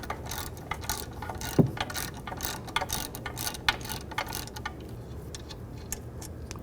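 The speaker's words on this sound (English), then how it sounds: "Now using a 13mm socket, we're going to take the bolts off." A 13mm socket ratchet loosens the rear brake caliper bolts on a 2009-2017 Volkswagen Tiguan, giving quick bursts of clicking pawl ticks, close and moderately loud over faint background noise, with no speech.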